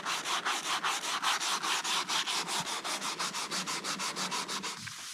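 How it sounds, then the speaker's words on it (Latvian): Filler being sanded on a hail-damaged BMW E91 wagon body panel, a steady rhythmic rasping of strokes, about four per second, close and loud with no talk. "Tad mēs tur vienkārši slīpējam, kamēr mums ir vienādi."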